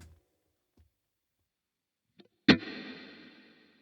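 A single sharp guitar note or pluck through a Boss Katana-Mini X amp rings out with a spring reverb tail that decays over about a second, following a few faint clicks in near silence.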